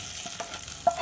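A spoon stirring fried shallots through cooked jackfruit in a pan, soft scraping strokes over a low oily sizzle in one brief close burst.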